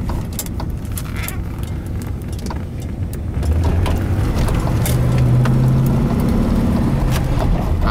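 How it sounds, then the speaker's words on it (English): A 1977 Cadillac Coupe De Ville accelerates with a low engine rumble that swells partway through into a louder, steady drone, alongside scattered clicks and rattles from the cabin. "Just the tiniest amount of foot pedal and buddy, you're off."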